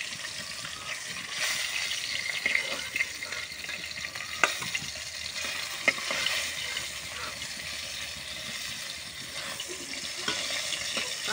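Hilsa fish lightly frying in a pan, with a steady close sizzle, occasional stirring scrapes and a few sharp clinks, no talking.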